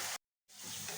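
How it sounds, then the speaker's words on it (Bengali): Chicken pieces fry lightly in oil seasoned with salt and turmeric, giving a steady close sizzle that cuts out abruptly for a moment of silence, then resumes as a softer, even hiss. "ভালোভাবে নেড়ে চেড়ে একটু হালকা ভেজে নিব,"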